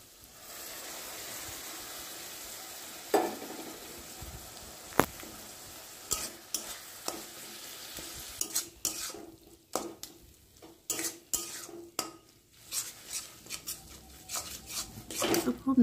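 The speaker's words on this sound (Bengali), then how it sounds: "তো খুব ভালো করে নাড়াচাড়া করে পোস্তটাকে বেশ খুব ভালোভাবে মাখিয়ে নিচ্ছি" Onion and poppy seed paste stirred in a pan, a quiet sizzle with irregular scraping and clinking of a spoon against the pan, growing sparser and more scattered later, with no talking.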